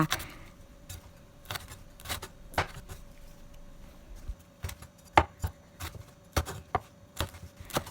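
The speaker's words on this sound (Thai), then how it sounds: "ก็คือกระเทียมแล้วก็พริกแดงจินดานะคะตำให้ละเอียดค่ะ" Garlic and red chilies are pounded in a mortar for a Thai stir-fried pork dish. Sharp, close thuds repeat at an uneven, steady pace, with no voices.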